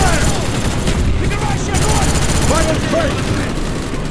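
Dense gunfire in Call of Duty: Black Ops, a steady barrage of shots and explosions over a continuous battle din, with voices calling out and shouting in the mix.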